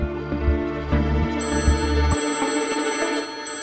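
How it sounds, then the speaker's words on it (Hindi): A telephone rings indoors in a household scene, its repeated bell bursts sounding loud and close over a steady background, with no talk during the ringing. "ओ भाई, इस समय फोन कहां से आ गया?"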